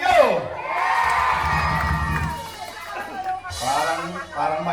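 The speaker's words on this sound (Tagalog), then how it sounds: "Parang mahina pa ang hiyawan." A crowd at an outdoor campaign rally in a Pasig City barangay cheers and shouts, a mix of voices with high whoops and children's yells rising and falling, with a loud voice over the top at the start and end.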